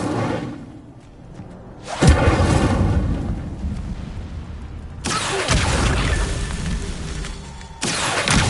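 A fire spell is cast in the Hogwarts Legacy game, bursting in with a loud whooshing roar, then flaring up in two more surges of crackling flame and rumbling booms that sweep out and fade, with no talking over it.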